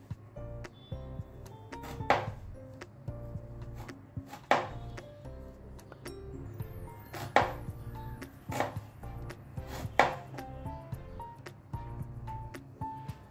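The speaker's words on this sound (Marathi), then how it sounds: "व चाकूच्या सहाय्याने त्याला असं कट करायचं आहे" A knife cuts through four or five pieces stacked on top of each other into fine shreds, producing a series of close, crisp chops with short pauses between them.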